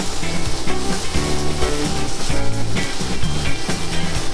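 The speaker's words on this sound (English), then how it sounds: "We just wanna kind of get the rawness out of this onion and let it cook down a little bit." Onion softening in a pan for a ham croquette béchamel gives a steady, dense sizzle at close range, running continuously beneath a rhythmic low tonal backing.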